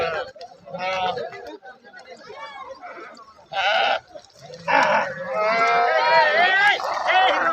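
Sheep bleat repeatedly during a ritual riverside bathing at Gursale weir, several animals calling close by in overlapping cries, with people talking and moving around them.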